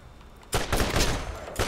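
Gunfire in the video game Borderlands erupts as a loud, dense burst of rapid shots lasting about a second, then a brief pause and another sharp burst starting.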